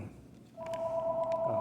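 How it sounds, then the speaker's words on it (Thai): A telephone rings with an incoming call, a steady electronic tone that sounds partway through and holds to the end, fairly close, over faint room noise. "มีโทรศัพท์เข้ามานะครับ"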